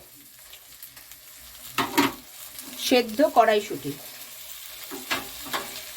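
Flattened rice sizzles and is stirred with spices in a pan with scraping sounds, while a person talks over it.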